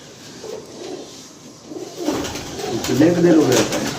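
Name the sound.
pigeon cooing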